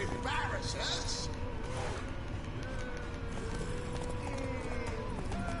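Horse hooves clip-clopping in The Witcher 3: The Wild Hunt, a steady rhythmic trot under continuous game ambience and music, with talking heard over it.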